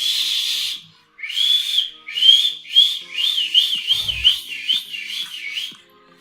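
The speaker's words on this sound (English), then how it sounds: "I think there's some improvement there for the whistle." A person whistles close by: a long held note, then a run of short repeated notes that speed up into a quick, rising-and-falling warble, with no talking.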